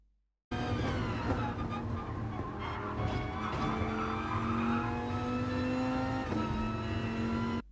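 A Gr.4 race car in Gran Turismo Sport lapping Tokyo Expressway South Outer Loop, its engine holding a loud, steady high-rev drone at full throttle through a corner, with faint tire scrub and a brief gear-change dip near the end.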